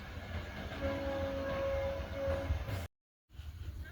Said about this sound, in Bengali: প্রচন্ড গতিবেগ নিয়ে পোড়াবাজার স্টেশন পার করে গেল বিবেক সুপারফাস্ট এক্সপ্রেস।